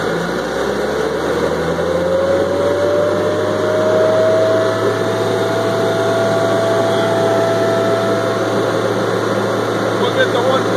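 A 1986 Air-A-Plane 5050D aircraft heater cart revving up to full RPM, a loud steady engine and blower roar with a rising whine that levels off and holds, a voice speaking over it.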